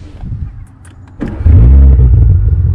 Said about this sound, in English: We start up the car first.